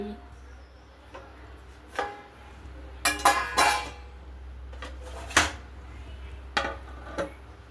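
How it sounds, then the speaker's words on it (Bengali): Dishes of cooked food, including rice and fried items, being covered one by one in a kitchen: intermittent clinks and clatters of lids and plates, with several louder knocks in between and quiet gaps. "এখন আস্তে আস্তে ঢেকে রাখি"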